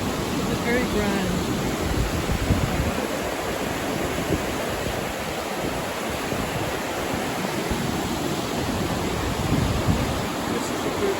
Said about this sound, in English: Well, it's the Grand River,